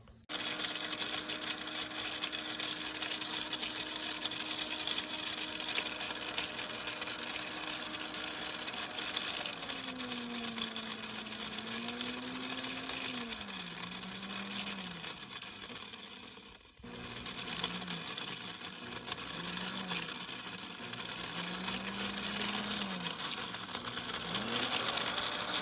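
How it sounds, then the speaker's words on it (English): A blender grinds HDPE plastic with a continuous loud motor whine and rattling, its pitch dropping and wavering under load, briefly cutting out once before resuming. "So I would blend a little bit and I'll show you what it looks like once it's blended up."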